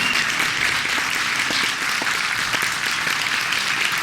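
An audience at a Vermont political event breaks into a big round of applause, loud, dense clapping that holds steady throughout with a few cheers mixed in.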